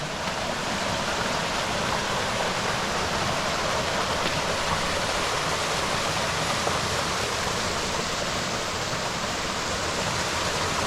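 Running water in a rocky creek along the Grapeyard Ridge to Engine Creek loop trail, a steady close rushing and splashing flow, continuous and even with no voices.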